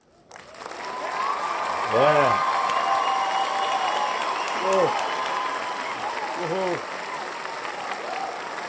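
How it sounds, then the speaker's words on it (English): Recorded applause and cheering played as a sound effect on a film podcast, a sustained crowd clapping bed with a man's exclamations breaking in over it a few times. "I got to play this right now because I'm giving you a little applause here"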